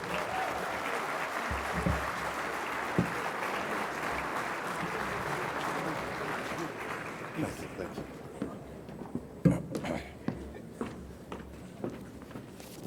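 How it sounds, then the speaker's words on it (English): A crowd applauds the mayor at the grand opening reception of the Indian consulate in Seattle, steady and dense for several seconds before thinning into scattered claps and faint voices. "Can I now have a big round of applause for the Honorable Mayor"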